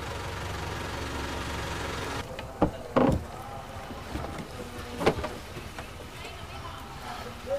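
A boat moves along the canals of Amphawa Floating Market in Thailand, with a steady low engine and water rumble that drops away, then scattered knocks and splashes follow while people talk nearby.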